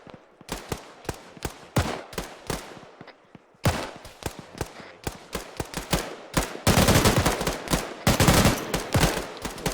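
Gunfire during a military video game training session run by a realism unit: rapid bursts of automatic fire and single shots, loud and close, overlapping volleys with a dense sustained stretch near the end, no talking.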